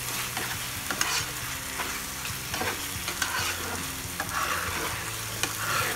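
Prawns cooking in a masala curry gravy in a pan, with a constant close sizzle and frequent stirring scrapes and knocks over several seconds, no voices.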